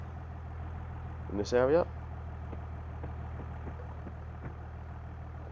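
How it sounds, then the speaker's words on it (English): Tractor engine idling steadily in Farming Simulator 22, a low continuous hum running through the whole stretch, with a brief burst of speech over it early on. "you can hear the tractor running"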